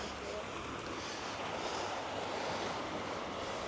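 Ocean waves wash in with the incoming tide as a steady, broad rushing surf, mixed with wind buffeting the microphone and no distinct breaks.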